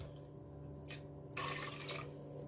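Water poured into a pressure cooker holding wheat grains for wheat halwa, heard as two short, close splashing pours over a quiet background hum.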